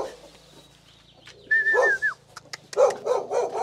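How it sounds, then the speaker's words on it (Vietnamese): A dog barks from behind, off to the side at a rural Vietnamese farm with pig and cattle pens: two or three short, fairly loud yaps come in the second half, and faint background noise runs before them. "đằng sau này có con chó"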